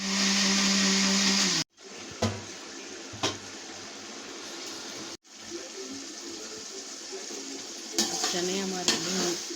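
Chickpeas roast in a pan with a steady frying hiss and scraping stirs, interrupted by two abrupt cuts and occasional knocks, fairly close and without speech.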